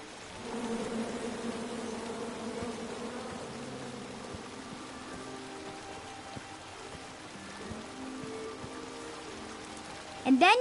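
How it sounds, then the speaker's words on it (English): Angry bees buzzing in the King's Quest video game, a dense continuous drone with a soft rain-like texture across the clip, ending in a brief louder burst. "Come at me, bees!"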